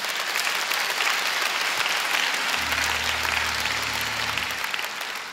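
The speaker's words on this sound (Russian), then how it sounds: "Давай Богу дадим аплодисменты." A church congregation breaks into sustained, close applause for several seconds, a thick steady crackle of many clapping hands, with a low organ or keyboard tone entering partway through.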